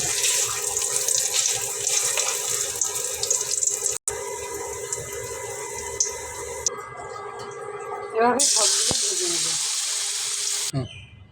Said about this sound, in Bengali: কড়াইয়ে তেল গরম হয়ে গেলে পাকা কলার ছেড়ে দেব এবার উল্টিয়ে পাল্টিয়ে ভেজে নেব